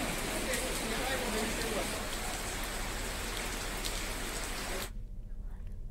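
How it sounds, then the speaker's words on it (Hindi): Light rain drizzles steadily onto surfaces outdoors in Jagdalpur, Chhattisgarh, a dense even patter that stops abruptly near the end, leaving quiet background. "बूंदाबांदी हो रही है"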